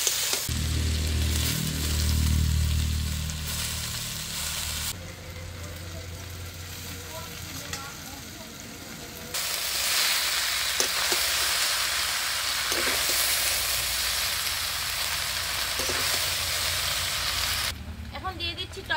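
Chow mein vegetables with chopped green chilli fry in a hot pan, a steady hissing sizzle that rises and falls as they are stirred, continuing for a long stretch with changes in intensity.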